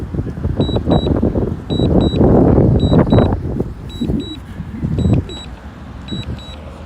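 Wind gusting over an outdoor microphone at the Old Port of Montreal, heavy buffeting rumbles that rise and fall in bursts, with repeated paired electronic beeps over the top.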